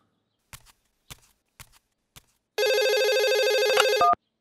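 A mobile phone rings in an animated cartoon with a bright, repeating electronic ringtone that lasts about a second and a half. A few soft taps and footsteps come first.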